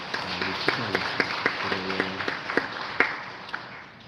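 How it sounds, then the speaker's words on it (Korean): A church congregation claps briefly to celebrate two newly confirmed young members, light uneven applause with some low tonal sounds underneath, fairly close and moderate. "오늘 우리 박수로 한번 축하하면서 우리 축하하겠습니다"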